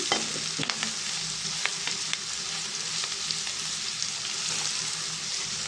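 Okra fry with salt, coriander powder, chili and turmeric being stirred in a pan, a steady sizzle under scattered scraping clicks of the spoon, close and continuous.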